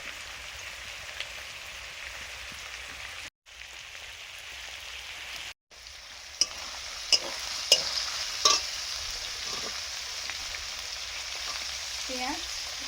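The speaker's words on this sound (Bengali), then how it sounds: "চিলি ফিশের জন্য সসটা মাখিয়ে নিচ্ছি। এখানে আছে green chilli sauce, soya sauce, vinegar আর এই বাড়ির তৈরি টমেটো সস।" Sauce of green chili sauce, soy sauce, vinegar and homemade tomato sauce being mixed for chili fish, heard as a steady wet stirring and scraping hiss with a few sharp clinks and two brief dropouts.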